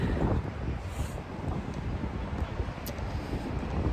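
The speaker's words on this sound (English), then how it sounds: "that wind is, my hair's gonna fly off" Strong outdoor wind buffets the microphone in a steady, loud low roar with gusty swells, on a walk around a Chinese city, with no one speaking.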